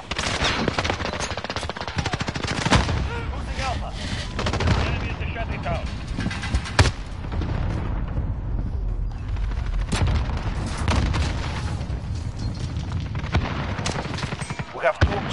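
A video game battle fills the mix with dense rapid gunfire, sharp bursts, and booming explosions that run continuously and loudly, while players shout callouts underneath.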